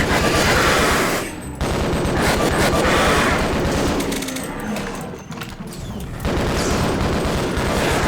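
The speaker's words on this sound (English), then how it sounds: "Like how I got the Half-Life assault rifle sound effect here" Assault rifle in Doom 3D using the Half-Life sound effect, loud rapid bursts of automatic fire with brief gaps, close and dominant.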